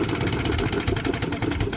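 A 1976 Johnson 6hp outboard motor runs steadily, a close, loud, throbbing idle with a fast even pulse and no speech.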